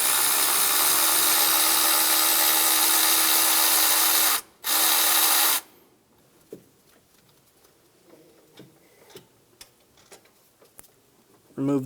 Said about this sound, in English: Using a 14mm socket, remove the 2 bolts on the starter.